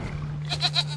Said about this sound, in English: A mountain goat, lol.